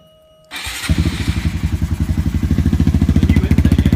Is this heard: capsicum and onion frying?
no